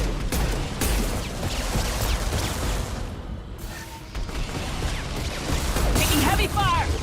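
Heavy gunfire rattles through a Mass Effect battle, a dense continuous barrage of shots and impacts mixed with a voice talking over the combat.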